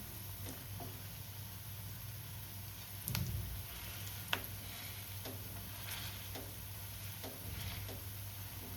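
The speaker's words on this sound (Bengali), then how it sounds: "এবার ভালো করে ভাজাটা হোক" Cabbage fritters fry in hot oil in a pan, a soft, steady sizzle with a low hum beneath and scattered clicks and taps of a utensil against the pan, one sharper scrape midway, no voices.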